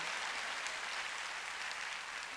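A church congregation at a Wednesday service breaks into steady, even applause that holds without pause for the whole short stretch at a moderate level, with no voices standing out.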